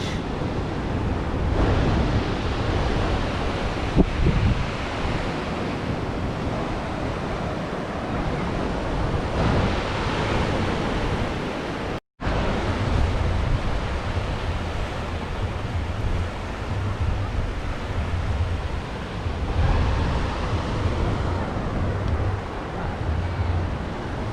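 Ocean surf rolls in at Arambol Beach, Goa, at sunset: a steady, broad wash of breaking waves mixed with wind buffeting the microphone, continuous for the whole stretch with no talking.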